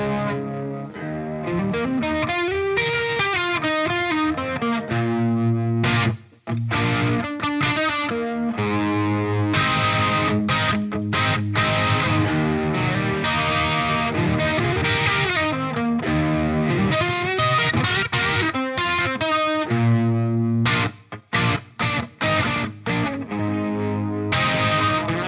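A Tokai Les Paul electric guitar played through a chorus effect, with shimmering sustained chords and melodic runs ringing loud and continuous for about 25 seconds, without any voice.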